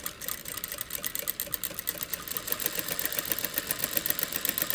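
A sewing machine runs a steady fast stitch along skirt fabric near the presser foot, making a continuous rapid mechanical whir with fine regular ticking, moderately loud and close, with no talking.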